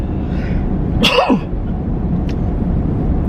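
A single sharp sneeze bursts out over steady background noise, followed by a short quiet stretch.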